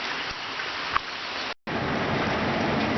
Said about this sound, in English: the rain just started coming down even harder